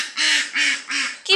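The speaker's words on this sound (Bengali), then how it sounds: "প্যাক প্যাক করছে" Ducks quack three times in a steady rhythm, loud and close, with a fourth call starting at the end; no talking.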